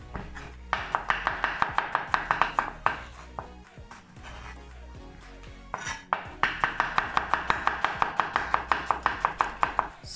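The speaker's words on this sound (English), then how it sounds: "After then I am cutting 2 red onions." Red onions are chopped with a knife on a cutting board. Two fast runs of crisp, evenly spaced chops sit close and clear, with a short pause between them and no talking.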